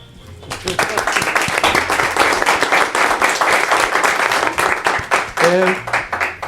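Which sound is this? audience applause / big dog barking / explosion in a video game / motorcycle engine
audience applause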